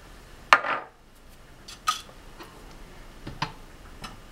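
A utensil clinks and scrapes against a bowl while paneer tikka marinade is mixed with cumin powder, chili flakes, salt and red chili powder: a sharp clack, then scattered lighter ticks, close and fairly quiet.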